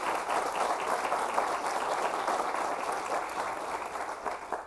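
A crowd at a groundbreaking ceremony for a Bowling Green veterans center gives a steady, dense round of applause, fairly distant and even, sustained for several seconds without speech.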